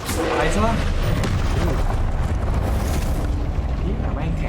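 A Confringo blasting spell explodes in Hogwarts Legacy, a loud, deep rumbling blast that roars continuously through the moment, with a voice speaking over it.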